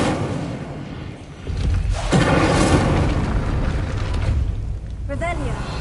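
The Incendio fire spell cast in Hogwarts Legacy gives a loud burst-like boom at about 1.5 s that swells into a sustained roaring rush, with a brief magical flourish near the end.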